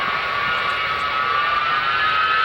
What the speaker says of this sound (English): Thus, completing its sequence, the Lockheed C5B.